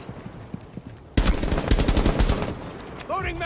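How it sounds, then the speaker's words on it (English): Thermite's main rifle in Rainbow Six Siege opens up in a sudden loud, rapid automatic burst of about a second and a half, cutting off abruptly over quieter in-game ambience. "This gun as well, this is Thermite's main rifle."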